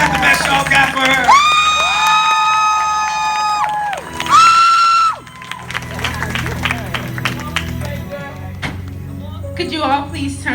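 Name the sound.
congregation clapping and cheering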